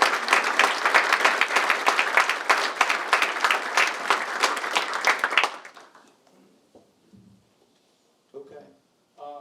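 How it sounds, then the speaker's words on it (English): An audience claps warmly for board members and cabinet standing at a State of the City address, a dense, loud burst of applause lasting about five seconds before fading into quiet, with a few faint voices afterward. "Let's give them a round of applause."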